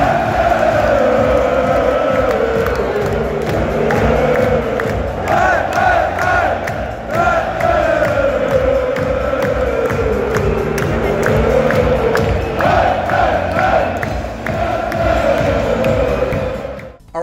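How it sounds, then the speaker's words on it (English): A darts crowd at a Premier League Darts night in Rotterdam roars and chants after a Michael van Gerwen match win, loud and sustained with rhythmic rising and falling chant waves throughout. "That was the reaction of the crowd to a win of Michael van Gerwen."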